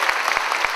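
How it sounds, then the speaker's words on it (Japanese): Brief applause from a comedy show audience, a short burst of clapping with a few sharper individual claps standing out, close and moderately loud. "はい、拍手。"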